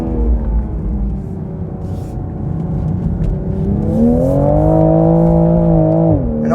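A car engine in fourth gear pulls uphill with a steady droning hum that swells and climbs in pitch, then drops off sharply near the end, heard from inside.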